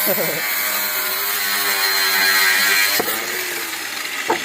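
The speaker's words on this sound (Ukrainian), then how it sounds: "Ну, болгаркою тепер отпилюй." A steady high-pitched whine of an angle grinder cutting metal for a lintel on a gas-block house build runs almost throughout, with a couple of sharp clanks near the end.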